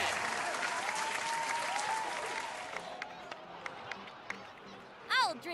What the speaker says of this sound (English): So, please give another round of applause for them.